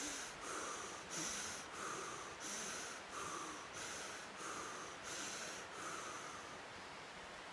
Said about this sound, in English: started breathing like this